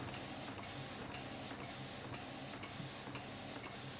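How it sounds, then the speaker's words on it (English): A cheap Canon iP4950 inkjet printer runs a borderless print job, giving a steady mechanical whir with evenly spaced rhythmic swishes of the print head about every half second, close and continuous with no talking. "it's a cheap printer and it prints great"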